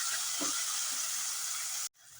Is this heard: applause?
no